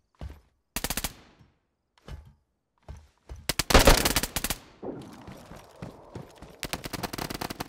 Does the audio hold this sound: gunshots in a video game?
yes